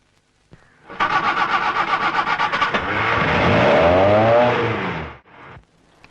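A car engine cranks with a rapid pulsing churn, catches, then revs and pulls away in a loud rising roar that drops off after a few seconds, followed by a brief softer engine note.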